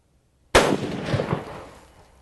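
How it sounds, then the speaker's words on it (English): A single rifle shot from a scoped rifle fired at a steel target 400 yards away: a sharp, loud crack bursting out of silence, then a rolling echo that fades over about a second and a half. "Now 400 yards."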